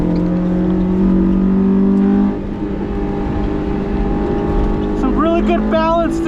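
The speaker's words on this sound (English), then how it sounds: "With these Honda motors, you just gotta keep it in the rev range." Stock Honda S2000 engine revving hard on a race track, a loud sustained in-car drone that holds high revs, dips briefly, then climbs and warbles through gear changes near the end.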